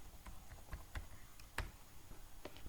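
Light clicks of typing on a computer keyboard while entering an Excel formula, a handful of irregular close taps and clacks spread over a few seconds, without speech.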